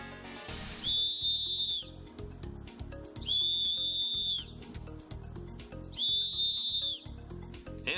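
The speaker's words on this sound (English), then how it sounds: "you can blow that whistle and can be heard from far away" A hiking safety whistle gives three shrill blasts, each about a second long and evenly spaced, loud and near over a low, rhythmic background rumble.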